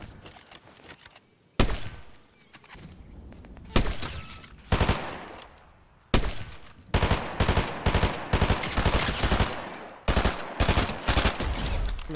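Fortnite gunfire crackles in sharp bursts, a few isolated shots early, then rapid, closely spaced volleys that keep coming, loud and near, with no talking over them.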